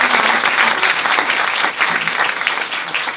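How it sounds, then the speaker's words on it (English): An audience at a talk bursts into full, steady applause, with many hands clapping densely and evenly from start to finish. "I would like everyone to give a big applause to Carole Cadwalladr."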